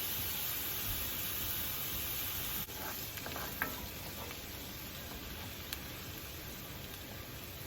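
A stick of butter melts and sizzles in a hot pan, a steady close frying hiss running throughout with a few faint clicks and stirring touches partway through.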